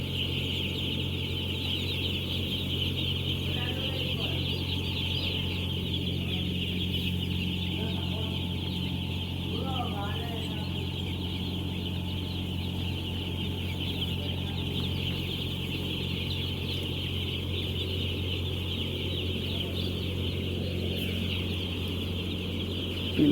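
Chickens and young chicks in an air-conditioned poultry farm, soft clucking and cheeping spread steadily throughout over a constant hum of fans or cooling equipment, with no talking.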